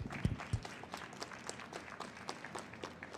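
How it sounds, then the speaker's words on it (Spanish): A small audience at a programming-languages talk gives brief, faint applause for a fellow attendee, scattered claps with a couple of louder ones at the start. "un aplauso para él"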